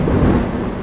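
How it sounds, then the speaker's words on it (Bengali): Heavy thunder rolls through a rainstorm, a loud, deep rumble sustained under the hiss of steady rain, close and continuous for the whole moment. "কি জোরে মেঘ ডাকে রে"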